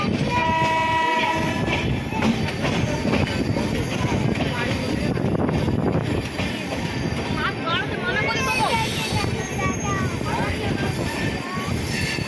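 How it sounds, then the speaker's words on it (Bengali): Aravali Express, a train running Bandra Terminus to Jaipur, passing through a station: loud continuous rumble and clatter of wagons, squealing wheels and a horn blast, with people talking nearby. "আমরাপুর আরাবলি এক্সপ্রেস ট্রেন নম্বর 1903। এই ট্রেনটি যাচ্ছে বান্দ্রা টার্মিনাস টু জয়পুর।"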